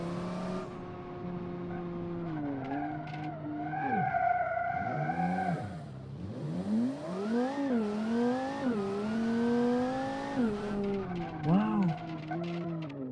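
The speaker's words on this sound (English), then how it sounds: "if your car actually has sequential gearbox, you can actually hear the gearbox whining" A race car with a sequential gearbox howls through a racing video game, its high transmission whine and engine pitch climbing and dropping repeatedly through shifts and corners, with tyre skids in places.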